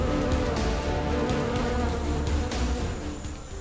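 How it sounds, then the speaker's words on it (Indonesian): A swarm of giant honey bees (odeng) at a high honey harvest makes a loud, dense, continuous buzzing drone, close and unbroken throughout. "Sebab odeng yang terkenal amat ganas ini akan menyerang tak henti-henti."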